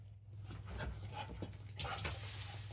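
Pet dogs pant and whimper softly nearby in a quiet room, with a short sharper rise near the end.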